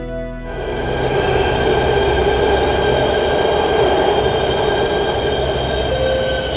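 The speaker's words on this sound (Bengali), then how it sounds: "রোজ মালভিয়ানগর থেকে ইয়েলো লাইনের মেট্রো ধরে সিকন্দরপুর" A Yellow Line metro train on the Delhi Metro rolls loud and close with a steady rumble, and its wheels squeal in long sustained tones throughout.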